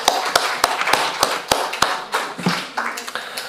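Scattered claps from a small audience at an international art critics' congress in Kraków, a handful of sharp, separate hand claps ringing out alone in a hall.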